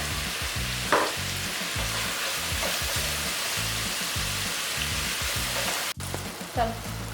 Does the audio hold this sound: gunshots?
no